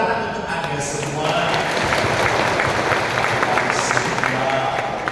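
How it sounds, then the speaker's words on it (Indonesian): Audience applauding at a family seminar, a steady wash of clapping that swells after the first second and holds through to the end, with a voice speaking over it. "Tepuk tangan untuk Anda semua"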